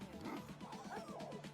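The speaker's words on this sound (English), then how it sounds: "Why are the dogs up there barking so much?" Dogs bark repeatedly from upstairs in a hardcore Minecraft 1.21.8 world, a muffled run of quick, angry yips and barks.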